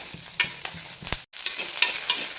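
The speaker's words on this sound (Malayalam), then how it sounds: "ഞാൻ പച്ചമുളകും കറിവേപ്പിലൊക്കെ അരിയിരിക്കുന്നത് നന്നായിട്ട് വഴണ്ട് വരുന്നുണ്ട്" Green chillies and curry leaves sautéing in a pan for karakozhambu, with a steady close sizzle, several sharp stirring scrapes and a brief dropout midway.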